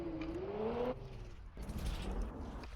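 A car drives through narrow back streets in a modded Minecraft game, giving a rising engine tone that shifts pitch and then a rougher rumbling drone, heard close with no voices.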